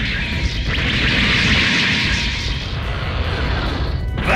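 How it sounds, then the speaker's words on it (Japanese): A loud, sustained explosion roars through a Super Robot Wars T battle scene with Master Gundam: a dense, continuous rumble that holds steady for about four seconds before a brief shift at the end. "爆発。"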